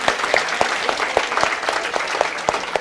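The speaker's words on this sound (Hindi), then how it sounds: "इन बच्चों के लिए यार जोरदार तालियां तो बनती है यार" Students in a lecture hall clap for classmates' high scores, a dense, continuous round of applause filling the room, close and loud throughout.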